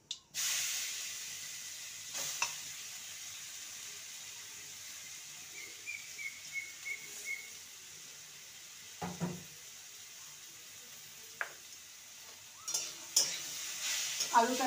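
Grated potato tipped into a pan over whole cumin seeds fried in oil, for an aloo paratha filling, gives a soft, steady hiss with scattered scraping stir clicks, fairly quiet throughout.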